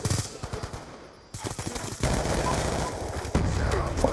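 Dense, continuous gunfire and explosive game sounds from a shooter video game, loud and busy throughout with overlapping bursts and no clear pauses.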